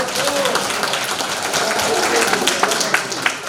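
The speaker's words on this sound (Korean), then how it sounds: "우리 대표님께 큰 박수" Audience applause at a political forum and discussion session, clapping for the speakers. It is fairly dense and steady, with crowd noise and some voices mixed underneath throughout.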